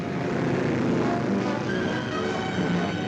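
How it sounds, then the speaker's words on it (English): German Luftwaffe warplanes flying over Poland in a 1943 WWII documentary, a steady droning engine roar that holds at a constant level without breaks, with no voices. "the planes of the Luftwaffe were over Poland"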